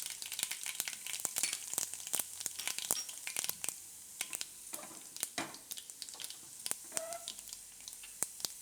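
Garlic, mustard seeds and cumin seeds frying in hot oil for tempering, a dense crackling sizzle with rapid sharp pops and spatters throughout, fairly close and steady.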